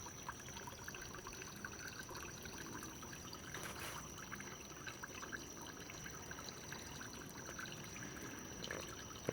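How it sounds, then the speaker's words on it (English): A small waterfall in a backyard dual-bucket fish pond gives a steady, soft trickle of flowing water, faint and continuous at close range, with no talking. "just the water flowing"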